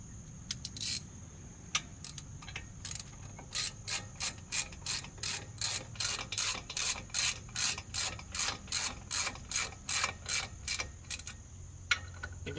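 A hand ratchet turning a 13/16 socket during a front brake job on a 2016 Ram 1500 4x4 Bighorn, giving long runs of quick, even clicks with brief pauses between strokes, close up and clear with no talking.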